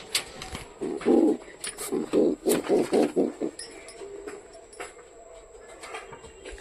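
Pigeons coo in a short run of low, rounded, throbbing calls, loud and close, followed by quieter ambient sounds.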